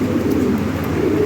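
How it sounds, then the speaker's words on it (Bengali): High-quality local pigeons of a foreign bloodline cooing steadily, a close, continuous low murmuring coo with no talk over it. "বাইরের ব্লাড লাইনে হাই কোয়ালিটি লোকাল কবুতর"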